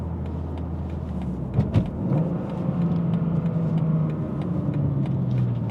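A manual car's engine lugs and bogs as it pulls out of a corner in third gear, a low steady rumble with a brief thump partway through, close and alone without talk.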